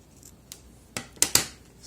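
Scissors snip through contact paper while covering a book: a faint light touch, then three crisp cuts close together, nearby and quiet with no talking.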